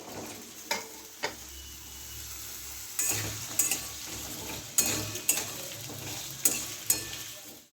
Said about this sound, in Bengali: আমি আলুটাকে প্রথমে ভেজে নেব, একটু লাল লাল করে ভালো করে ভেজে নেব।